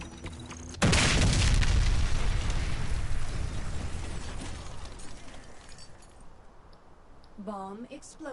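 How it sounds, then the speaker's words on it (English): A bomb blast in the game Warface: Breakout erupts loudly near one second, a heavy broadband boom that slowly decays over several seconds, with a brief game announcer voice near the end. "Bomb exploded."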